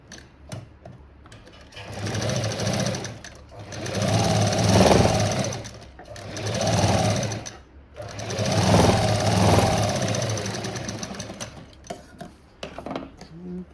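A sewing machine stitches a boat-neck blouse in several loud bursts of rapid, whirring needle motor, separated by short pauses, with quiet clicks at start and end.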